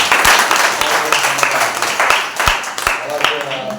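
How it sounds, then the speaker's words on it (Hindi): Congregation at a Sunday church service clapping loudly, a dense burst of applause with sharp individual claps standing out, mixed with a voice speaking over it. "एक जोरदार ताली बजाइए"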